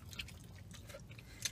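Close, soft chewing of shrimp at a husband-and-wife mukbang meal, a few wet, squishy bites over a low murmur, with one sharper crunch near the end.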